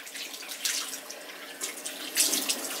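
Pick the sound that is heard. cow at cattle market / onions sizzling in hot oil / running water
running water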